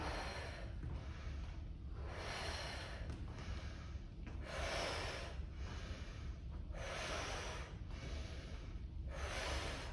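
Big rhythmic breaths drawn in and pushed out during a standing Pilates session, several broad breathy swells in a steady cycle, near and fairly loud over a constant low background hum, with no talking.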